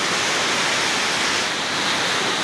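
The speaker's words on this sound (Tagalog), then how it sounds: "Sa Libtong Falls" Libtong Falls pours as a loud, steady, unbroken rush of falling water that fills the whole scene without any pause or change.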